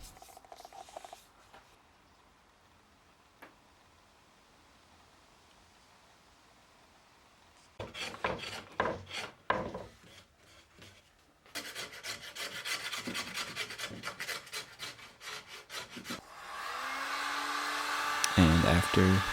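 A heat gun softens old lacquer on wooden chairs while a scraper rasps it off the wood; quiet at first, then bursts of rough scraping and a steady blowing hiss that grows louder toward the end.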